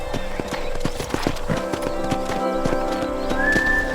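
Horse hooves clip-clopping in the video game Red Dead Redemption, a steady rhythmic trot of sharp, close hoof strikes with a faint whistle-like tone near the end.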